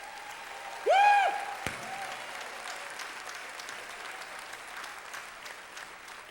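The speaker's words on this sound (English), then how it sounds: "we need to give these young people who got these scholarships today another round of applause" Church congregation applauding young scholarship recipients during a sermon: a sharp rising whoop or whistle rings out near the start, then a steady, moderate wash of clapping carries on for several seconds.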